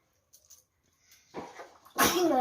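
A sudden, forceful sneeze bursts out near the end, preceded by a few faint rustles and a softer breathy sound.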